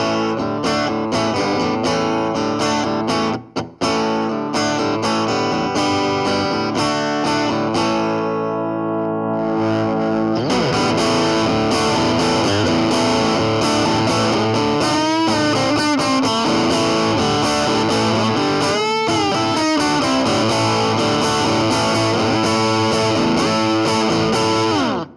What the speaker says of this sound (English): I've added some distortion on the Frontman 10G amp